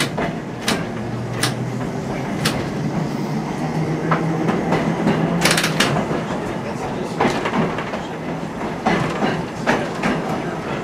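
An interurban electric railcar rolls along the track at the Illinois Railway Museum, its steady rumble broken by repeated clacks and bumps at the rail joints, with no talking.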